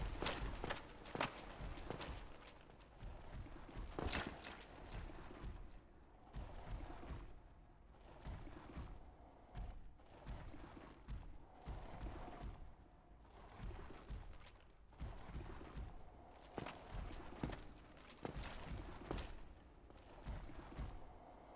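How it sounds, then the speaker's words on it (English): Footsteps in a video game: a steady series of faint, hollow thuds spread evenly across the stretch, some louder clusters among them, with no voices over them. "I hear footsteps."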